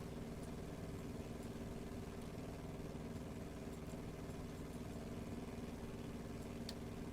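Steady low drone of a Piper J3 Cub's small aircraft engine in a flight simulator, running evenly at low power, faint and continuous with no voices.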